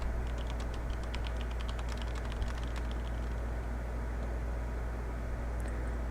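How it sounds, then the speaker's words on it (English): Keyboard typing from the video game Empires of the Undergrowth, a fast run of light key clicks over a steady hum for the first few seconds, thinning out afterwards. "Perhaps try using the keyboard?"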